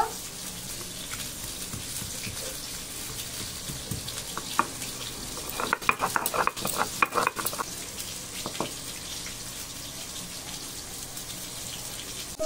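Pieces of pointed gourd (potol) fry in oil with a soft, steady sizzle, broken midway by a burst of clattering utensil and pan contact.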